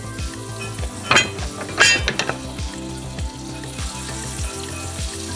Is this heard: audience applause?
no